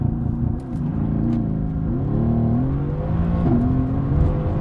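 A Mercedes-AMG GT launches under launch control and accelerates hard, its engine note climbing through several rising sweeps with brief dips at the gear changes, steady and fairly loud throughout.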